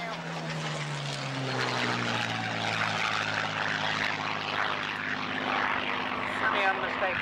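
A Spitfire with a Rolls-Royce Merlin engine of some 1,200 horsepower flies past at an air show. The propeller drone sweeps down in pitch as the plane passes, with a crackling roar, and a voice talks over it.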